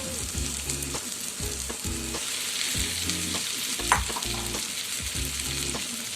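Fried eggplant stirred into a thick spice masala in an oiled pan for begun bahar, giving steady sizzling with repeated scraping strokes of the spatula in a regular rhythm, close and fairly loud, with no talking.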